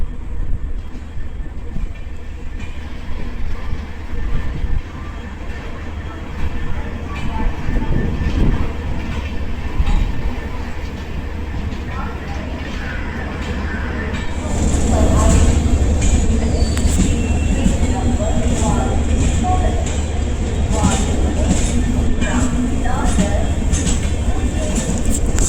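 The 11097 Pune–Ernakulam Poorna Express heard from inside a sleeper-class coach: a loud, continuous rumble and rattle of wheels on track, growing heavier partway through, with faint squeals and voices over it.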